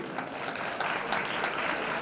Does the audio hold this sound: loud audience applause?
yes